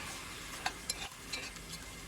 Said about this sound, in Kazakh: Жақсылап қуырып аламыз